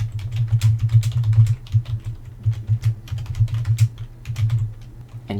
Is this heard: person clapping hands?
no